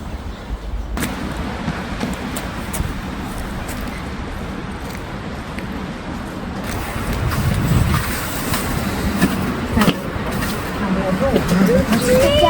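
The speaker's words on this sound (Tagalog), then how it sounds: "Ang lakas ng hangin dito." Strong wind blusters across an open cemetery, a rough, buffeting roar that batters the microphone and swells louder midway, with people talking underneath.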